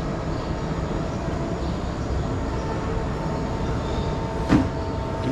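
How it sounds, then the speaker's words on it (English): A steady, distant low rumble of a passing train in Ybor City, Tampa, Florida, continuous and broad, with a brief louder knock near the end. "Can you guys hear that train in the distance?"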